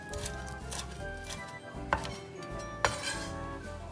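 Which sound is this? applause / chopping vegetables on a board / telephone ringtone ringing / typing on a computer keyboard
chopping vegetables on a board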